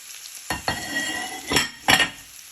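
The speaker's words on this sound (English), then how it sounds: "You want to place in all your garlic and onion so they go nice and soft" Garlic and onion frying with chorizo in a pan for homemade spaghetti tomato sauce, a soft steady sizzle broken by a few sharp utensil scrapes and clinks as the mix is stirred, close and fairly quiet.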